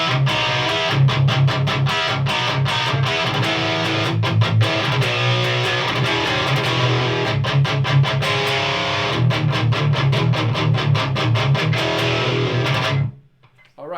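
Heavily distorted electric guitar through a Randall T2 400-watt high-gain valve amplifier plays chugging palm-muted metal riffs, loud and continuous, with rhythmic stops before the sound cuts off at the end.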